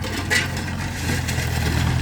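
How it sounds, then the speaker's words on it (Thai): A Ford 6610 tractor used for pushing through brush runs its engine nearby with a steady, low idling rumble and a light mechanical clatter throughout, with no voices. "นี่มาดูรถไถนะ ตีป่าตีป่า ไปละ"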